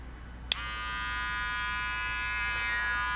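Wahl Cordless Senior electric hair clippers switch on with a sharp click and settle into a steady, high-pitched motor buzz, close and continuous.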